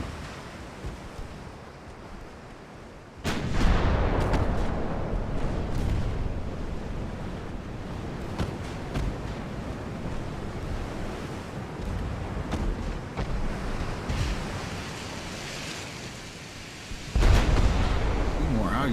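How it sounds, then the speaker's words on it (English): Naval ship guns firing in every direction in the video game Ultimate Admiral: Dreadnoughts, set in France in 1890, with heavy booming blasts over a constant rumble of wind and surf, one sharp blast early on and another near the end. "I love how we're firing in every direction with this ship"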